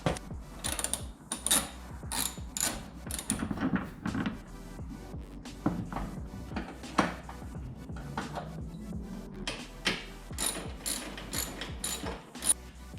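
Ratchet tightening bolts on a 2016 Subaru WRX STI during an oil change, rapid clicking bursts of the pawl with short pauses, close and fairly quiet.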